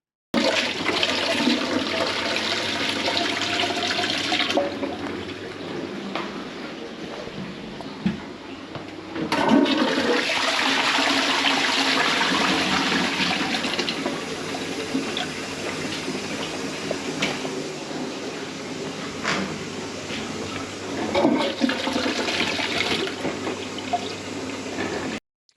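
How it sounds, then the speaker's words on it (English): Several toilets flushed one after another in a blocked community centre washroom, with loud rushing water, swirling refill and trickling between flushes, all without any talk. "I'm going to give everything a good flush."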